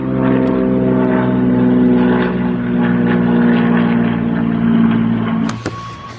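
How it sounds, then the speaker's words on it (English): A propeller plane drones loudly overhead above a backpacking trail, its steady engine hum swelling and holding, then cut off abruptly by a sharp clatter near the end. "Friggin' airplane."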